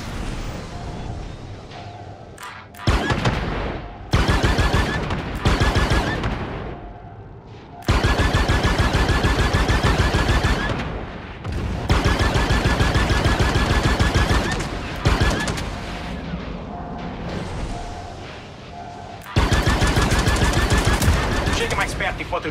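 Blaster gunfire fired at a ship in the Star Wars Outlaws video game comes in loud rapid bursts separated by short pauses, with intermittent talk between volleys.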